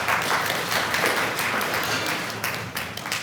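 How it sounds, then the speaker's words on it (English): A seated audience at a science lecture in Delhi gives sustained, dense applause that stays loud and even throughout, tapering only slightly at the end. "I think applause is due."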